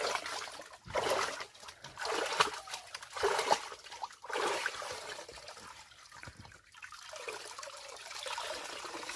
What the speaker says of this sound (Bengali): সাদা জলটা বেরিয়ে যাচ্ছে